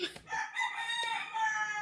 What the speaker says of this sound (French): On a des poules en ce moment.